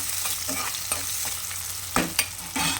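Ingredients for a brinjal, tomato and drumstick curry fry in a pan with a constant close sizzle, while a spoon scrapes and stirs in short strokes, two sharper knocks near the end.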